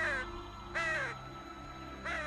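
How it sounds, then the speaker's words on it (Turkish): A flock of crows caws in an animated cartoon scene, giving three harsh, rasping calls at fairly even gaps, loud and close over a low steady background tone. "Bir karga sürüsü."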